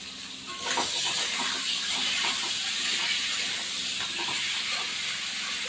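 Green banana and potato frying with a little salt in a pan, a steady loud hiss and sizzle running throughout with no talk.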